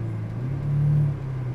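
A Lamborghini engine idles low and steady, then swells briefly into a deeper rumbling rise as the clutch is let out before settling back, heard from inside the car.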